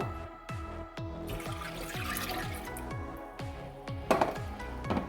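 Milk and water pour and splash into a pot in a steady stream, with gurgling and trickling throughout and a brief clatter near the end.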